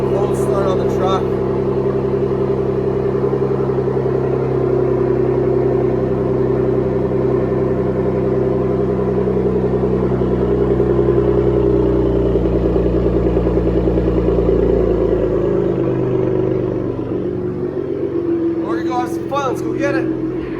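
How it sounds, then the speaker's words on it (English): A pickup truck engine idles steadily right after a cold start, a loud, close, continuous rumble with a low drone that holds for the whole stretch and eases slightly near the end. "It's a cold start on the truck."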